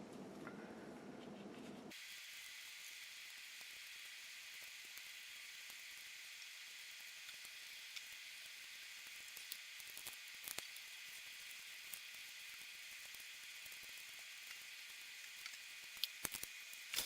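Water running steadily while ice-dyed tie-dye shirts are untied and rinsed, a continuous hissing stream close by after a brief lower rumble at the start, with occasional splashes and clicks near the end.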